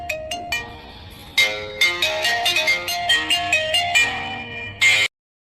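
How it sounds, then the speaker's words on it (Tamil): A mobile phone ringtone plays a bright, rhythmic melody of repeating electronic notes, loud and alone, then cuts off abruptly. "மீனா கதை போன் அடிக்காங்க"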